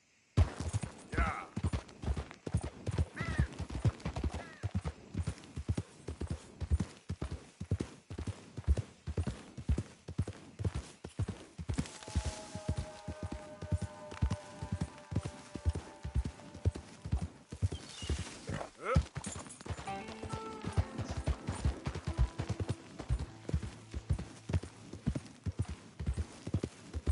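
Horse hooves galloping in Red Dead Redemption 2 make a fast, steady clip-clop rhythm throughout, with occasional whinnies and a rider speaking quietly over them.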